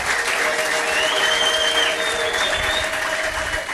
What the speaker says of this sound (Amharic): ከዚህ በላይ ጭብጨባ